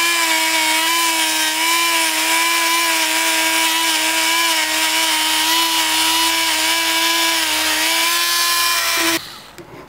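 A Dremel rotary tool polishing silver whines loudly and steadily at a high pitch for several seconds, then stops suddenly near the end, with no voices.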